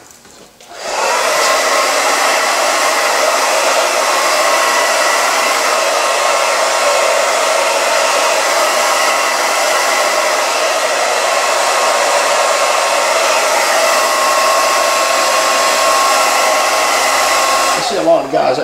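A hair dryer blows loud and close during a haircut, starting after a brief moment and roaring steadily without pause for nearly the whole stretch before cutting off at the end.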